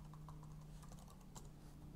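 Typing on a computer keyboard: soft, irregular key clicks, quiet and close, over a low steady hum with no speech.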